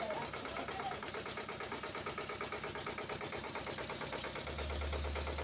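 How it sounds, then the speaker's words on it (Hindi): A 14 HP engine drives a 64-blade oil expeller machine, giving a steady, loud, continuous mechanical drone with a regular pulsing rhythm throughout and no pauses. "इंजन भी बढ़िया चल रहा है, मशीन भी बढ़िया चल रहा है"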